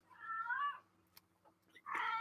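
A cat meows twice nearby, a drawn-out plaintive call and then a second louder meow, with small faint rustles between them in a quiet room.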